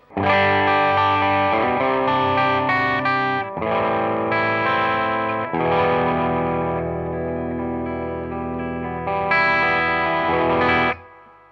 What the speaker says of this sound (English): Even with humbuckers, it's a very, very responsive overdrive.